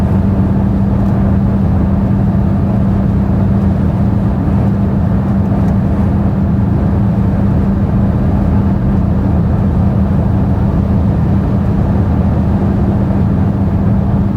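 An underpowered car with short gearing accelerates, its engine droning loud and steady throughout with a constant low hum and road noise, no voices.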